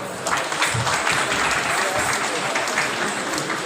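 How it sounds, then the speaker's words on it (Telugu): Audience applause at a children's dance performance event, a steady wash of many hands clapping at moderate distance, continuous throughout with no talk over it. "చప్పట్లు."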